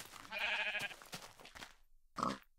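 Sheep in a farming video game bleat in two short, nasal bursts, the first longer and wavering and the second brief and sharp after a moment of silence, heard close and clear.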